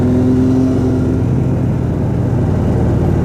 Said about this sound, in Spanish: Ahí va el buen Kafka en su Street Triple.